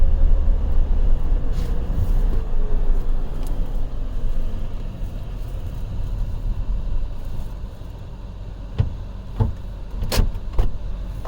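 A pickup truck in four-wheel low crawls off-road through deep lake-effect snow in western New York, a constant loud low engine rumble with sharp knocks and clunks from the cab, no talking.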